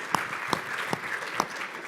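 Audience applause at a talk on reaching at-risk teens in Virginia, a moderate continuous clapping wash from a room crowd with a few sharper individual claps standing out.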